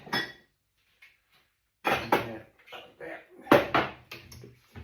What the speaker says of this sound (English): Doing all my cups, my plates, my saucers, my bowls, all the cutlery.